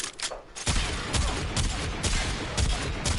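Quartakk rifle from the video game Warframe firing in a fast, sustained burst, loud and close, with dense overlapping shots after a brief quieter opening.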